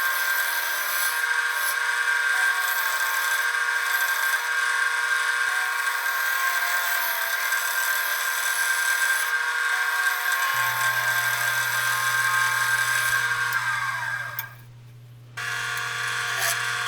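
A maple bowl with epoxy resin turns on a wood lathe as a sharp tool cuts it. A steady, high tonal whine with scraping runs throughout, then a lower motor hum joins, and the sound briefly dips near the end.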